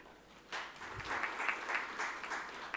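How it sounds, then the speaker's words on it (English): An audience at a social leadership awards conclave breaks into applause, a soft, distant patter of many hands that starts after a brief pause and continues steadily. "a big round of applause to all the dignitaries and all of us present here"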